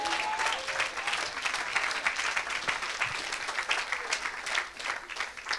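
Applause from a church congregation, steady and dense throughout, many hands clapping at close to moderate distance with a faint crowd murmur underneath.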